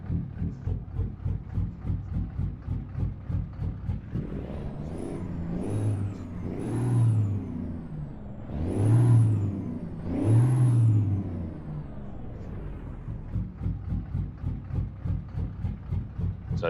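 In American Truck Simulator, a custom Peterbilt truck's engine idles with a steady rhythmic lope, then swells through several throaty revs with faint high whistles before settling back to the choppy idle, heard alone.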